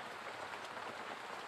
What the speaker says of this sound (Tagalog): Uulan na naman.